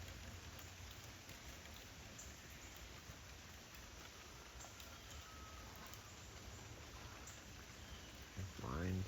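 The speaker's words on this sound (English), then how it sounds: "It's a good steady rain." Steady outdoor rain falls in a dense, even hiss of drops on surfaces in the bush, continuous throughout, with a brief louder thump near the end.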